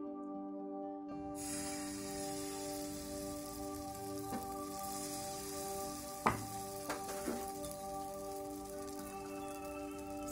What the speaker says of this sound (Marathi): नॉनस्टिक पॅनवरती थोडंसं तेल टाकून आता आपण तयार केलेल्या पिठाचा उत्तप्पा तयार करायला घेऊयात